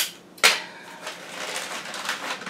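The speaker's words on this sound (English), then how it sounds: "Hopefully you guys can hear me through the crinkles of the paper" Crinkling wrapping paper while Christmas presents are wrapped, a sharp loud rustle near the start followed by softer, continuous crackling and scrunching close by.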